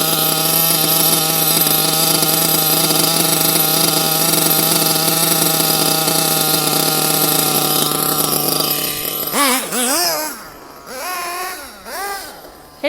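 A nitro RC car engine screams at a loud, steady high pitch after carburetor tuning. It then drops and revs up and down in quick bursts, very close.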